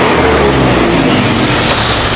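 Honda Click scooter engine idling steadily at a motorcycle tire shop, a continuous close, loud low hum with constant rumble and no talk.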